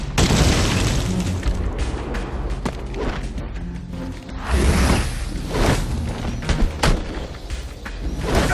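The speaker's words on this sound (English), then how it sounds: "I can use a thermocharged batarang to bring that ice down on top of those thugs" Ice crashing down on thugs in the Batman Arkham Origins video game, a dense run of loud booming impacts and rumbling crashes with mechanical clanks, continuous and close throughout.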